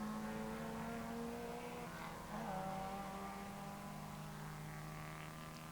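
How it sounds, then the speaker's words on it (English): Racing cars, V8 and rotary-engined, lap the Phillip Island circuit, a steady distant engine roar with faint shifting pitch as they move around the track, no commentary over it. "it gives you a great illustration of these cars moving all over the track"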